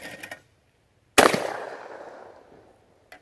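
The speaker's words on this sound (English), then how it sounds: "3 rounds with the old Browning." A single loud shotgun blast from an old Browning A5 at a clay target shoot, sharp and close, its report ringing out for about a second before a faint click.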